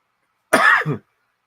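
One harsh, close cough over a ham radio broadcast rings out sharply in otherwise dead silence, a brief double-pulsed burst.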